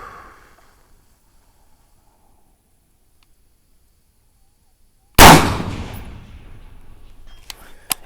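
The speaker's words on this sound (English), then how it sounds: "let's just finish out this mag on the silhouettes" A single loud rifle shot cracks out after several seconds of near silence, aimed at silhouette targets on an outdoor range, followed by a fading echo and a faint metallic ping from a distant impact.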